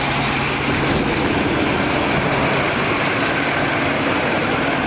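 A 1979 Chevy G20 custom van engine idles steadily up close, with a continuous low rumble and broadband mechanical noise at an even level throughout, and no one talking.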